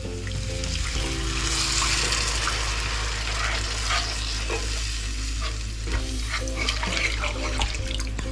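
Water is poured into a masvadi batter of besan with spices, salt and coriander, a trickling splash mixed with stirring and clinking in the bowl, close and fairly loud, with a steady low hum underneath.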